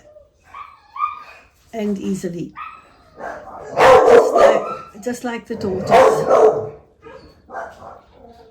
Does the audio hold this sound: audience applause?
no